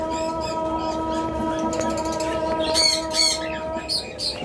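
A pet bird, a lovebird or cockatiel kept for sale, gives repeated sharp squawks and chirps close by over a steady background hum, with faint voices underneath.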